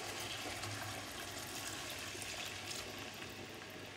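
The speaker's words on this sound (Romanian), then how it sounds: "Acum că roșiile și-au lăsat zeama, adăugăm vin" Wine pouring into a pot of simmering tomato stew with oxtail, a soft continuous liquid trickle and splash heard close and fairly quiet, with no voices.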